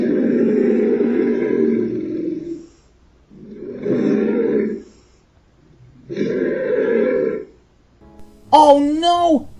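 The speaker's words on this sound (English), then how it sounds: "That's the cry of the Yeti!" A monstrous Yeti cry in a Thomas the Tank Engine cartoon: three long, loud, rough roaring bursts separated by short pauses, then a sharp, high wavering call at the very end.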